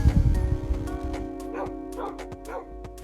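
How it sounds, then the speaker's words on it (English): Minecraft dogs in a pet area of a hardcore survival game world give a series of sharp, close yips and small barks with whimpering in between, over a steady background hum. "little pet area for me to keep my dogs or my axolotls and stuff, or where Tim used to be."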